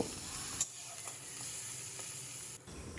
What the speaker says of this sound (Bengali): পেঁয়াজটাকে এখন আমি হালকা করে ভেজে নেব